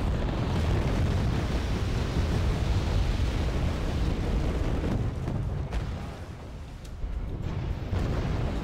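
Bombs detonating in a Wargame AirLand Battle match, a continuous heavy rumble of overlapping explosions with a brief dip in intensity before the blasts swell again.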